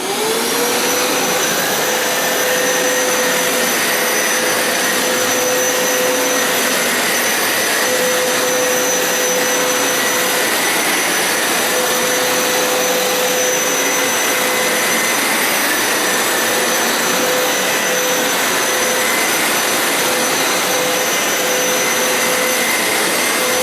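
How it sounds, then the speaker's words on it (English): A carpet cleaner machine sucking rinse suds out of a carpet, a loud steady motor whine and rushing suction roar with a high tone, continuous and close with no talk. "Most of your suds will be sucked out of your carpet"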